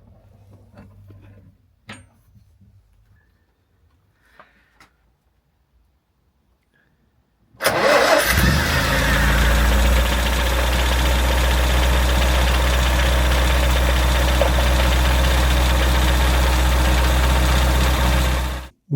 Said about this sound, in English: So there it was a case of seeing whether it fired up.